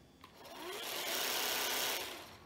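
A Theragun percussive massage device with a single speed setting is switched on and run: a rapid, buzzing motor hum swells up, holds steady at close range, then fades slightly as it winds down.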